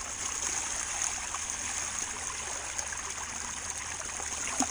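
Water pours and trickles out of a gold hand dredge bucket outdoors, a steady soft stream with small splashes that holds at an even level.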